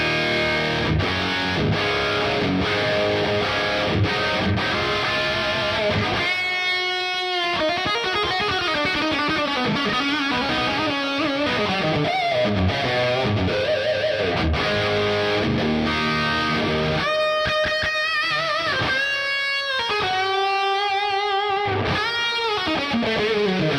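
Electric guitar, a Washburn N4, played through a Peavey 5150 amp with reverb and delay, gives loud, heavily distorted riffs and ringing chords that continue for the whole stretch with no talk.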